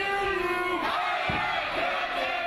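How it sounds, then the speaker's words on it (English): A loud crowd at a high school basketball game roars and yells continuously, with shouting voices blending into a steady wall of cheering noise. "It's common to hear the crowd getting loud at high school basketball games."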